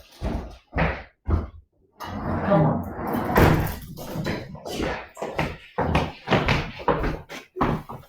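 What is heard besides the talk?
door opening to let a dog in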